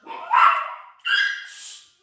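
Two sharp barks from one of four pet dogs kept at home in a kitchen, close and loud, separated by about half a second of quiet.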